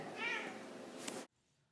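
A cat wearing a GPS tracker harness meows in a drawn-out, close, fairly loud call lasting about a second, ending abruptly into near silence.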